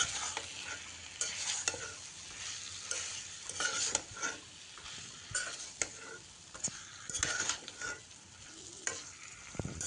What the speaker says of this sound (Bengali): মশলার সাথে কাঁকরোল আলু ভাজা সব কিছু দিয়ে ভালোভাবে মিশিয়ে